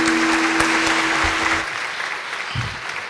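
A crowd claps loudly at a Born2win programme while board members are welcomed to the stage. The applause is dense at first, then thins and fades toward the end, with a low hum beneath it.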